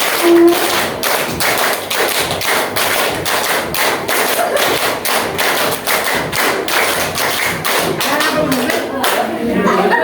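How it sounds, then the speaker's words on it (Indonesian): A class clapping in rhythm in a classroom, loud sharp hand claps repeating in a quick steady pattern for about ten seconds, with voices faintly underneath. "5 kali tepuk 5"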